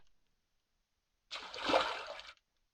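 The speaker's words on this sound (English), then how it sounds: "The water's raising and lowering." Water moves through a sink in the Aftershock video game, a soft splashing, trickling wash that rises for about a second, swells, then stops abruptly, heard alone after silence.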